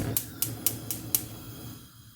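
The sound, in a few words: gas hob igniter clicking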